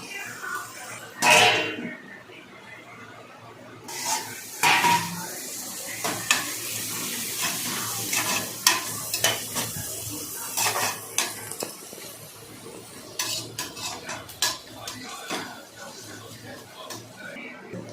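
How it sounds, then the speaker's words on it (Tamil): Carrots and beans sizzle and scrape in a pan as they are stirred, with clattering utensil knocks and bursts of frying noise throughout. "கேரட் பீன்ஸு நல்லா வதக்கணும்"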